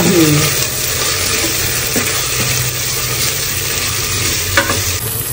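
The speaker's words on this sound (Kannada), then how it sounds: "ಅದಾದ್ಮೇಲೆ ಪುನಃ ನೀವು ಫ್ರೈ ಮಾಡ್ತೀರಾ, ಅವಾಗ ಒಂದ್ ಸ್ವಲ್ಪ ಬ್ರೌನ್ ಕಲರ್ ತಿರುಗಬೇಕು" Onions with ginger garlic paste sizzle steadily in a pan for chicken biryani, a close, continuous frying hiss with occasional stirring scrapes and no voices.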